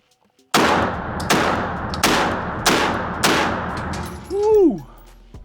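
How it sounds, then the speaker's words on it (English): A MAC 1014 semi-automatic 12 gauge shotgun fires five loud, sharp blasts at steady intervals of about three-quarters of a second, each followed by a short decay. A brief voice cry comes right after the last shot. "I'm shooting at 10 yards"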